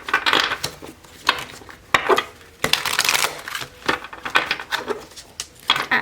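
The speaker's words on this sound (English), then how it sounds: "I'm just acclimating myself to this deck. And I like to shuffle it in a different way." Cards being shuffled in repeated crisp bursts of riffling and snapping, close by, with short pauses between shuffles.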